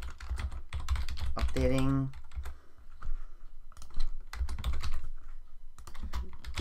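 Typing on a computer keyboard while coding a LÖVE 0.9.0 project, soft rapid key clicks running through the clip under someone talking over it.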